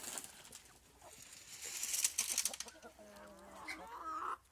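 Free-range chickens, including Orpington cross hens, gather at feeding time on a small farm, with faint clucking and soft patter of movement in a quiet outdoor setting.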